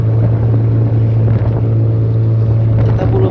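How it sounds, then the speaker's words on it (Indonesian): Strong wind and big waves buffet a small fishing boat at sea, a loud, unbroken roar of wind against the microphone over a steady droning motor hum. "Ombak besar-besar, angin kencang."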